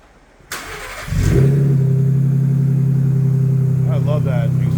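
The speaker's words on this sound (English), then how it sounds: "I love that exhaust, that A&E exhaust." A Ford Bronco fitted with an A&E exhaust starts with a sharp crank, then settles into a loud, steady, deep rumbling idle up close, with a voice speaking briefly near the end.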